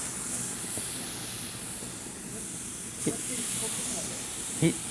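Salmon sears on a hot non-stick skillet with no oil, a steady close sizzling hiss throughout, broken by a couple of brief louder pops and a faint voice.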